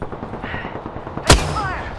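A single sharp, loud gunshot in the video game Apex Legends cracks out over a low background rumble and fades quickly.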